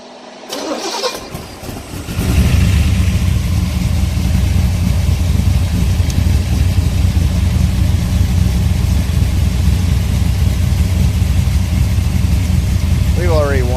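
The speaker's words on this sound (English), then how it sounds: "Engine starts really nice though." A Pontiac 455 Ram Air V V8 with mufflers cranks briefly and fires up, then settles into a loud, steady, lumpy idle that fills the rest; a voice talks faintly over it.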